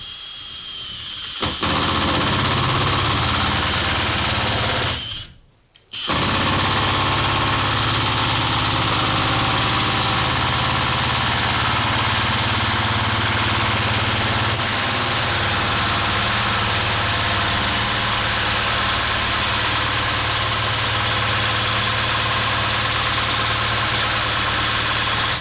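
A Milwaukee 1/2-inch cordless power tool set to mode 1 drives a fastener down, giving a long, loud, steady mechanical whirring and rattling hum with a brief cutoff early on, then continuous running.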